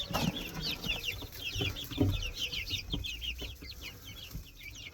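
Young chickens clucking and peeping in a new, larger coop: a steady stream of many small, high chirps and clucks from a close flock, with a few low thumps of movement underneath.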